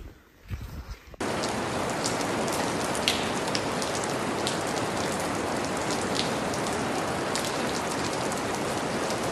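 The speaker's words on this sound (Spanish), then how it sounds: "se largó a llover muy fuerte" Heavy rain pours steadily on surfaces at an abandoned countryside inn near Tolhuin where campers shelter. The downpour starts abruptly and is dense and loud, with constant pattering and no talk.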